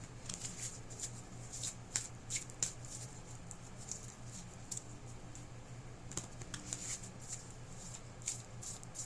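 Moonology Oracle card deck being shuffled by hand, giving soft repeated riffling flicks and taps at close range over a low steady hum, with no talk.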